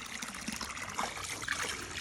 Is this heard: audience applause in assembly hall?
no